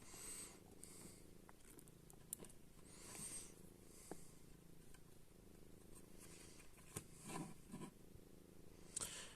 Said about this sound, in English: if you're hearing purring sounds, really sorry guys, that's one of my cats.